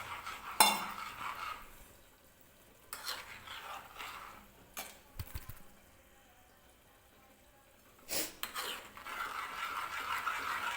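A spoon scrapes and stirs cornflour into an apple halwa mixture in a pan, intermittent soft scraping and clinking against the metal with a few louder knocks, close by.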